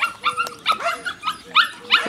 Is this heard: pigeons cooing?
no